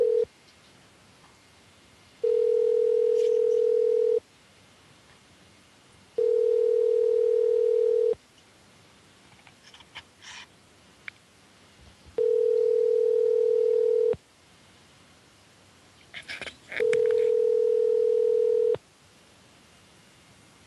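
Telephone dial tone, a steady loud hum sounding in four separate bursts of about two seconds each, with quiet gaps and faint clicks between them.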